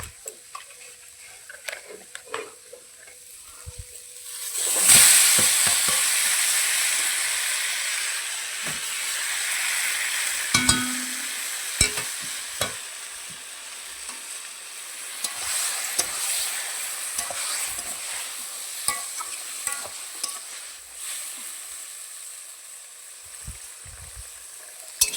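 Taro stems hit a hot pan with tomato and fry, a sharp hiss rising suddenly then settling into a steady sizzle punctuated by stirring clatter, no voices.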